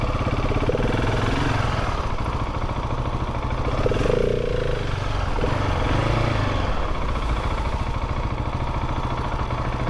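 A 2023 Husqvarna 701 Supermoto's single-cylinder engine running steadily, a close, constant throbbing drone with a slight swell in the middle and no speech.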